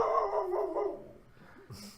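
A dog barks once or twice at a moderate distance, a short yelp-like burst that stands clear of a quiet room, with no one speaking over it.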